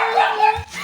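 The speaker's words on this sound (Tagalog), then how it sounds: "Ay, daddy, may aso doon!" A dog yips and barks briefly close by, mixed with background noise.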